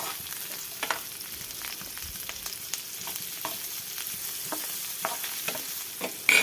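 Capsicum roasting in a pan as pizza topping, a steady soft sizzle broken by scattered light clicks and scrapes of a utensil, with no talking.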